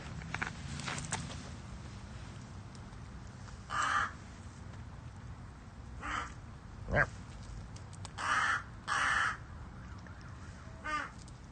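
A bird gives several harsh crow-like caws spaced through the recording, some in quick pairs, over a quiet outdoor background with a sharp knock and occasional voices.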